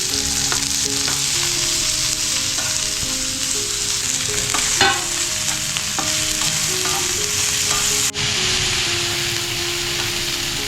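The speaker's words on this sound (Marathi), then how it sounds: "पनीर मस्त फ्राय करून असे पण छान लागतात" Paneer and capsicum frying in a pan, a loud steady sizzle running throughout, with stirring scrapes and a brief clatter midway, close up and with no talk.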